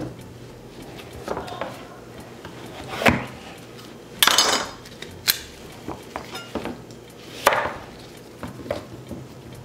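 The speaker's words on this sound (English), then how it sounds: "This is butternut. We're going to also scrape the inside of this." Scraping and knocking on a butternut squash in a home kitchen, a few sharp irregular scrapes and thuds close by with pauses between them, no talk.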